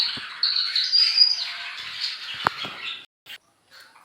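Pet cockatiels chirp and squawk in a quick, faint run of calls for about three seconds indoors, followed by a short sharp tick and a couple of softer chirps near the end.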